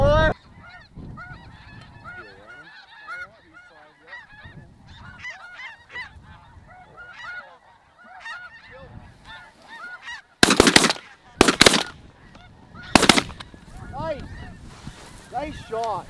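Snow geese honk in a dense, continuous chorus during a hunt, many birds calling at once from near and far, with a few loud sharp bursts and people talking over the flock.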